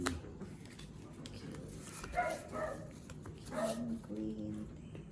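A dog barks and whimpers in short bursts at a moderate distance, partly buried under a steady hum of voices and room noise.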